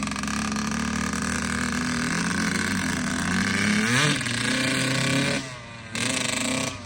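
Kawasaki KX85 dirt bike freshly rebuilt, its two-stroke engine running loud and close as it is kicked into gear and moves off, revving with rising pitch, then dropping briefly before picking up again; no talking.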